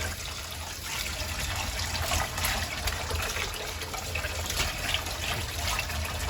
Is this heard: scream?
no